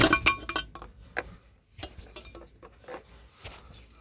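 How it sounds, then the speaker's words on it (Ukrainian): The oil filter housing cap on a Mitsubishi Lancer X 2.0 DI-D is screwed on with small turning movements, giving a close series of light, irregular clicks and clinks with quiet gaps between them and no talking. "Маленькими движениями закручиваем крышку фильтра."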